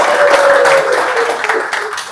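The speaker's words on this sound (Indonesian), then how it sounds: "Tepuk tangan untuk Yogi" A crowd applauds Yogi at an event at Sentul Highlands Golf Club: a loud, sustained wash of clapping that lasts about two seconds, with a voice faintly underneath.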